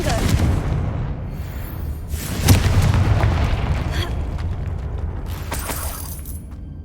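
A Confringo spell explosion in Hogwarts Legacy gives a booming burst near the middle, set in dense continuous game noise and rumble, with no voices.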